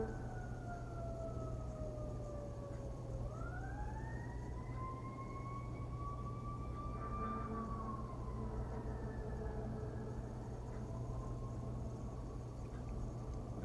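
An ambulance siren wails in long, slow rising and falling sweeps, sounding somewhat distant over a steady low rumble of traffic or engine noise.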